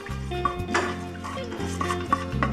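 Garlic going into olive oil in a pan for spaghetti sauce, with soft clinks of a utensil against cookware and gentle stirring scrapes, a few brighter taps standing out, close and fairly quiet, no talking.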